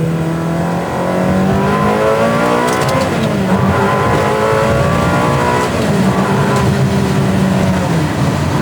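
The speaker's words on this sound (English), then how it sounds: "The induction noise on this thing sounds so cool." A Ferrari 360 V8 engine revs hard and continuously, with a loud throaty intake roar rising and falling in pitch as the throttle is worked, heard up close.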